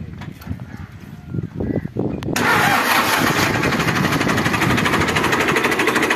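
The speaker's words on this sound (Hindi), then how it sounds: "सलफ मार के स्टार्ट करके तुहानू चैक करवाउंदे आ गड्डी" New Holland Dabang 85hp tractor engine self-starting: a brief rough crank, then the engine catches around two seconds in and settles into a steady, loud, close idle.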